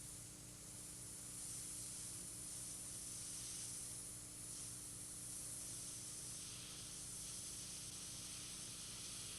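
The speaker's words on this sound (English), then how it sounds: "The nice thing about being able to sketch at this stage with the airbrush is you're not really held to anything." An airbrush sprays paint in a steady, continuous hiss while a mural is sketched onto a car hood, with a low constant hum beneath. No one speaks.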